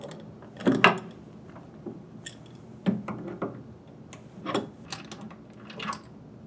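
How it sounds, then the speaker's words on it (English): An open-end or crescent wrench loosens the gas line from a residential wall burner's venturi, making scattered close metallic clicks, scrapes and taps in short uneven bursts with quiet gaps. "we're going to remove the gas line from the venturi. This is done with a crescent wrench or an open end wrench."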